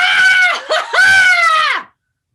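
A person lets out a loud, sustained yell, wavering in pitch, in two long bursts with a brief break, very close and strong, then cutting off to silence.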